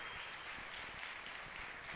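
A conference audience at a Portuguese-language prophetic gathering claps in a dense, even wash of applause, heard from a distance for a couple of seconds with no speech.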